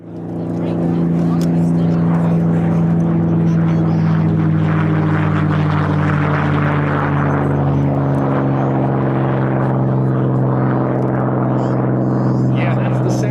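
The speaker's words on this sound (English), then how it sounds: "that's the sound of the Rolls-Royce V12 Merlin engine built by the Packard Company here in the United States" Packard-built Rolls-Royce V12 Merlin engine of a North American P-51 Mustang flying past at an air force base airshow, a loud steady droning roar with strong low harmonics that holds throughout, swelling slightly midway, with no talk over it.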